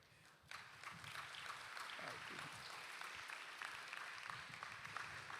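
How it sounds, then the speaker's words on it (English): Audience applause after a music arranging workshop presentation, a faint, steady wash of many hands clapping at a distance that continues evenly for several seconds. "I think y'all could do a better round of applause than that."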